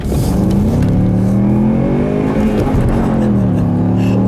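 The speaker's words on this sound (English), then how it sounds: "I'll leave you guys the nice little acceleration here, like I always do" A Ford Mustang on snow tires accelerates hard on a cold day with light snow starting, its wheels spinning as the engine holds a loud, steady roar that rises slowly in pitch, close up and with no talking.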